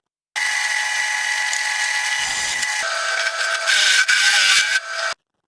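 A power drill bores a hole through an automatic transmission pan, a steady high whine running about five seconds with a brief dip mid-way and a louder, rougher stretch near the end before it cuts off.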